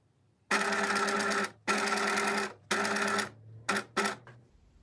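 A sewing machine stitches fabric along a straight line at half a presser-foot width in short bursts: three long runs followed by two quick ones, close and clear with no talking.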